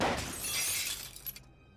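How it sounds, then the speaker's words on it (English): A car's back window shatters in one loud burst of breaking glass, with fragments tinkling and settling before the sound cuts off abruptly. "suddenly there was the sound of the back window glass breaking"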